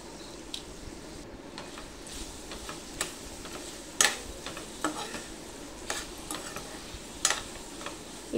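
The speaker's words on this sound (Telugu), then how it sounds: "ఇప్పుడు రుచికి సరిపడంత కారం, ఉప్పు వేసుకొని కలుపుకోవాలి. లో ఫ్లేమ్లోనే ఫ్రై చేసుకోవాలి." Food with chili powder and salt is stirred and fried over a low flame, giving scattered spoon scrapes and taps over a soft, steady sizzle.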